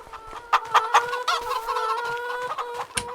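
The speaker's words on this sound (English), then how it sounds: "We also have a big chicken coop over here." Chickens in a large commercial coop of about 600 animals in a farming video game cluck in busy, overlapping bursts, close and fairly loud, with no talking.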